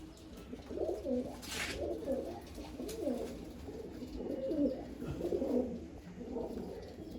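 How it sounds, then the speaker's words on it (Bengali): Pigeons in a rooftop loft coo softly and repeatedly in low, rolling phrases, with a faint chirp or two among them under cloudy weather, close by but gentle. "এটা একটা মালবাই পায়রার বাচ্চা, সম্ভবত মাদি পায়রা হবে"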